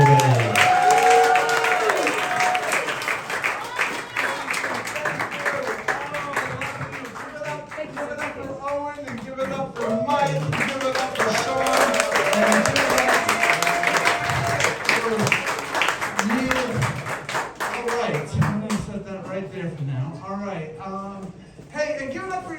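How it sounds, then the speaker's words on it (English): Comedy club crowd at a brewery bar clapping and cheering for a comedian's entrance, dense applause running steadily for about twenty seconds, with voices and a host talking over it before it thins out near the end. "Start clapping right now for Al Goodwin, everybody."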